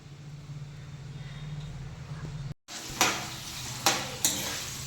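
Sliced onions dropped into hot oil in a pan for an egg garlic curry, a low hum giving way after a brief gap to brighter sizzling with several sharp clatters of a spoon on the pan.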